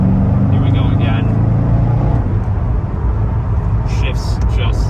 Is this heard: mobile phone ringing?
no